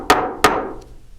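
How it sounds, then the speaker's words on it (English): Two crisp taps of a nylon or rawhide hammer flattening thin metal blanks on a bench block, close and sharp with short ringing decay and a faint third tick after. "So I'm going to lay them flat on my bench block, and using my nylon hammer or a rawhide hammer,"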